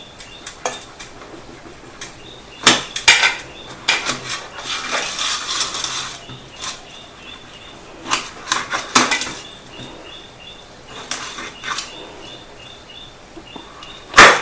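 Aloe vera being cut into small pieces with a knife, a series of irregular sharp clicks and taps of the blade on a hard surface, some in quick clusters and others spaced apart, close and moderately loud with no talking.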